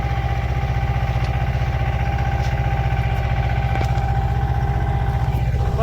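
Two tractors run on a farm field while cutting and building ridges, a loud, continuous, close diesel engine chug with a steady rhythmic throb and occasional clanks.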